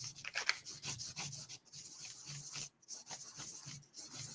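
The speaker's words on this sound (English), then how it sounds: "I'm using a pretty high grit right here" Sandpaper of a fairly high grit rubbed back and forth over a lightsaber part, giving steady raspy scraping strokes close by with a few short pauses and no talking.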